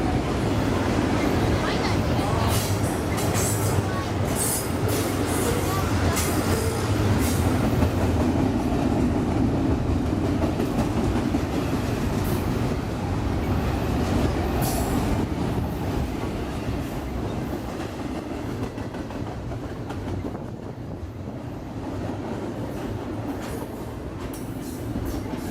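A BNSF freight container train rolls past on the busy Transcon main line at Fullerton, California, making a loud, steady rumble and rattle of wheels and wagons that holds for the whole stretch and eases slightly near the end.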